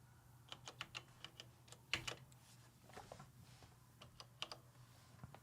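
Someone types on a computer editing keyboard, producing faint, irregular bursts of clicky keystrokes with short pauses between them over a low steady hum, with no voices.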